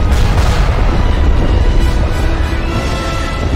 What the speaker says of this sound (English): The torpedo launcher has been destroyed.